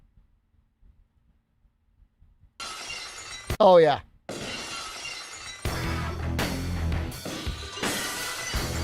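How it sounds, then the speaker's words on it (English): A glass-breaking sound effect cuts in as one sharp, loud shatter with ringing shards, followed by music, and someone briefly speaks before it. "I hope it plays the glass break."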